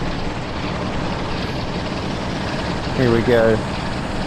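A Class 47 diesel locomotive in Train Sim World drones at full throttle, a steady close engine roar throughout, with someone speaking briefly over it near the end.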